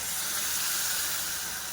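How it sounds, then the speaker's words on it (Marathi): Hot water pours into browned, roasted masala for dhaba-style shev bhaji, a steady close rushing splash of liquid filling the pan with no talk over it. "यामध्ये आपल्याला गरम पाणी घालायचे आहे."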